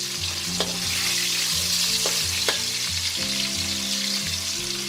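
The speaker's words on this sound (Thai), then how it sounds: "ปลาเค็มใส่ซีเค็มนะ ให้เรานำมาทอดค่ะ" Salted fish frying in hot oil for Thai roasted chili paste gives a loud, continuous close sizzle with a few sharp clinks, over low background music and no talking.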